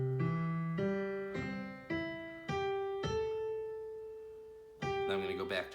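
Piano notes played one after another in a short, slow melody, each ringing out and fading before the next, ending with a brief flurry of notes.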